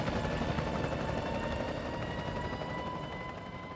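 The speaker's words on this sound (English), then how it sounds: "Chopper 5 is getting closer, so we're getting a better perspective." A news helicopter hovers over a neighborhood where a gas line ignited, its steady rotor roar loud and continuous with no speech, easing slightly toward the end.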